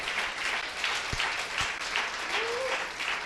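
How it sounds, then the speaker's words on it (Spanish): Church congregation applauding during a sermon, a steady wash of clapping throughout with a brief vocal call or whistle near the end. "Denle un fuerte aplauso, aleluya."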